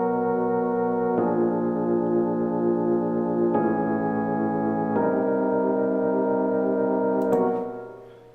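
Rhodes-style electric piano from the FL Keys plugin in FL Studio 12 plays sustained jazz chords, changing every one to two seconds at a steady loudness, then fading out at the end, with no voices.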